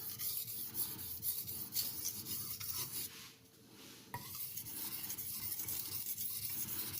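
A knife blade is rubbed against a fine 6000-grit aluminium oxide sharpening stone, giving soft, continuous scraping strokes in a close, quiet room, with a short pause partway through.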